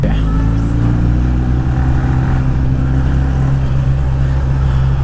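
An old Kawasaki Ninja 1000 motorcycle riding behind on the road: a loud, steady engine drone with a constant hum and wind rush, holding an even pitch throughout.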